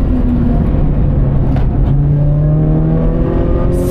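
A Toyota 86 GRMN engine accelerates hard on the Magarigawa track, a loud, close, steady engine drone climbing smoothly in pitch with no talk over it.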